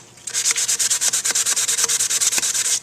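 A wooden table is sanded by hand in fast, rhythmic back-and-forth strokes, about ten per second, close and alone with no talking.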